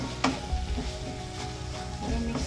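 Chicken frying in a pan sizzles softly as chicken masala is stirred in, with a few scraping spoon strokes over a low, close crackle and no voices.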